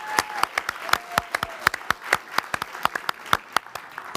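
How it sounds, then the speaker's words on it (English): Sparse applause from a small audience at a Harvard and Center for Civic Media talk, with individual claps standing out as distinct sharp cracks in a loose, uneven rhythm, fairly close and moderately loud throughout. "Can we just get another round of applause?"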